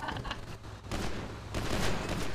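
Gunfire in GTA V roleplay, a short burst of rapid rattling shots and muffled booms, fairly distant and unbroken, with no talk.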